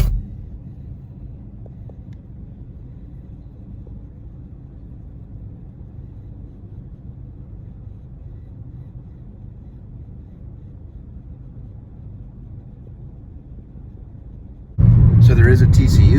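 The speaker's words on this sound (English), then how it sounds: "Like tons of traffic." Road traffic heard from inside a car driving past a gas station near a busy TCU game, a steady low rumble of the moving car that jumps louder and brighter near the end.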